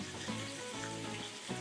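Chicken pieces frying in a pan for gravy sauce, a steady close sizzle with faint stirring, continuous and alone without talk.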